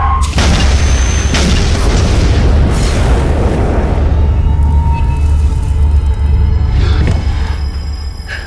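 A car blows up in a movie scene, a loud deep boom at the start that decays into a long rumbling roar, with a few fainter bursts near the end.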